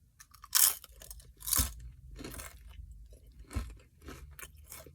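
Close, crisp crunching and chewing of Doritos Collisions chips, a Pizza and Cool Ranch flavor mix, inside a car, with a few loud bites followed by steady softer chewing and no talking.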